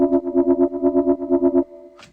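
Synth bass with reverb switched on, from an electronic track, pulsing in about a dozen loud, even rhythmic hits, then a washy reverb tail rings on briefly after the notes stop.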